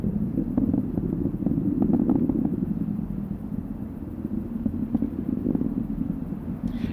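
SpaceX rocket engines roar during the CRS-16 launch as a steady, dense low rumble that holds at a fairly even level throughout, with no voices.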